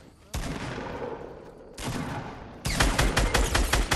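Gunfight in the video game Fortnite, with dense bursts of loud gunfire coming in three waves and the final wave the heaviest.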